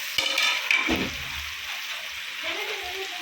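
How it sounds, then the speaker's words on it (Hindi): Tomato, ginger, garlic and spices fry in a pan for a Kokani-style dal, giving a steady soft sizzle with a few clinks and stirring knocks near the start. "अभी इसको पूरे मसाले डालेंगे, पूरे मसाले डालेंगे और अच्छे से भुनेंगे इसको।"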